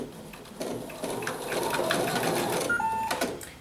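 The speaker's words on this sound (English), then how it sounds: "now I'm going to start just going to stitch a seam" Sewing machine stitching a seam through two layers of fabric for a small mug rug, a short steady mechanical whir that starts after a pause and runs close and fairly quiet, briefly stopping near the end.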